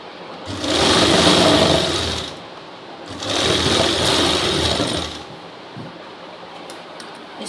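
Sewing machine stitching a Rajputi suit runs in two sustained whirring bursts, each about two seconds long, with a brief pause between them and quiet handling noises afterward.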